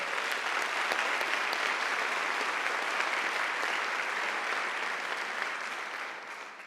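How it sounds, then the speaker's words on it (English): Steady applause from a large audience, sustained throughout and tapering slightly toward the end. "Let's also applaud Lydia Morrow-Rutan, the Dean of Library, and"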